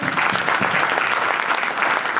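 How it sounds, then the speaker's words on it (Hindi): Steady, dense applause from a seated audience at a wellness business leadership event, loud and continuous throughout without a break, with no voices rising above it. "mentor, coach mister Amit sir के लिए जोरदार तालियां होनी चाहिए"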